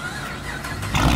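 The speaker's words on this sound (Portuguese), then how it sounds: "olha ali atrás, ali o barulho do meu carro" Chevrolet Camaro with a V8 and straight-pipe exhaust, heard in a tunnel: a loud, close, deep engine rumble that swells into a heavier roar near the end, with no voices over it.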